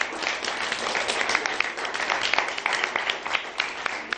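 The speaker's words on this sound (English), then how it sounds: "let's give them one more big round of applause" A library storytime crowd claps enthusiastically, a busy mix of many hands with sharper individual claps popping out, steady for about four seconds before easing off slightly at the end.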